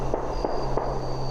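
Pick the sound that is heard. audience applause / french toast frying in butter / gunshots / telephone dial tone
gunshots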